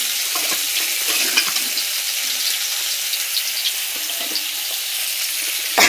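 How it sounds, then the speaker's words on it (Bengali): Bhola fish frying in hot oil in a pan, a steady crackling sizzle running throughout at close range with small pops and spatters, no voices. "আর একটু মাছ ভাজতে বাকি আছে।"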